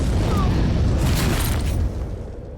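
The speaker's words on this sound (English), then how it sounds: "an exposed wire causes an explosion" A loud, sustained explosion roar in the PS2 survival horror game Extermination, set off by an exposed wire; a dense blast that rumbles on for about two seconds, then drops off slightly.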